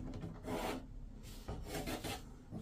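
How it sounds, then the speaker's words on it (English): Plasterboard being cut out by hand during drain repair work, giving repeated rasping, sawing strokes in uneven bursts, close and fairly loud with no talking. "So we'll start with cutting the plasterboard out."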